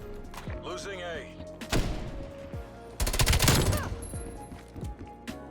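Close, sharp gunfire bursts in Black Ops Cold War, including a fast rapid-fire volley, with thuds and movement between the shots and some game voice over part of it.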